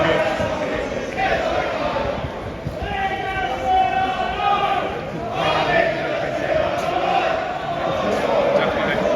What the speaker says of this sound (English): We can get the crowd in the background.